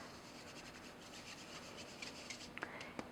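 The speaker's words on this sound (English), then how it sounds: "So I'm just going to put a little in a strainer and just sift it over the top." A strainer sifting a flour and cornstarch mixture over sponge cake batter, giving a soft, steady rasping rub with a few light taps near the end, faint and close.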